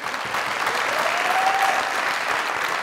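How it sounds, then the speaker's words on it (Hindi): A studio audience at a Mazaq Raat comedy show breaks into steady, dense applause that holds at an even, loud level throughout, with a faint tone running briefly underneath. "जी तालियां बजा दे जरा पहले ही।"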